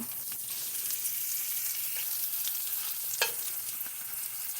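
Quiet, steady sizzling of food frying in a pan, with a few soft clicks and scrapes of stirring now and then.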